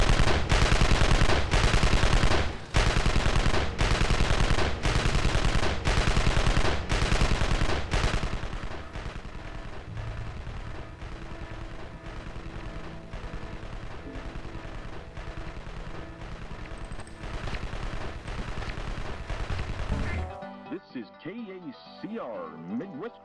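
Heavy bursts of gunfire from a gym raid in the Evil Genius strategy game, loud evenly spaced volleys in the first seconds, then a dense sustained racket that fades out into quieter game sounds.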